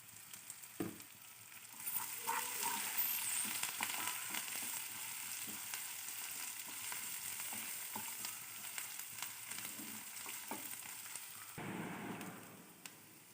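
Curry leaves with crushed ginger and garlic fry in hot oil for hotel-style poori curry, giving a steady, fairly quiet sizzle with scattered crackles and pops and occasional stirring, without speech.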